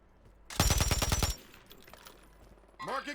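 Rapid automatic gunfire in the video game Warzone, a tight burst of about a dozen sharp cracks in under a second, followed by quieter ambient game noise and a brief tonal sound at the end.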